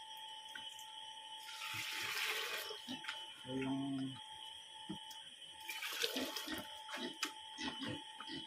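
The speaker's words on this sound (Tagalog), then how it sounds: "So, lagyan natin ng tubig para" Water poured from a container onto dry pig dewormer feed to soften it: a short splashing, trickling pour in the middle, surrounded by quieter handling noises and a brief word of speech.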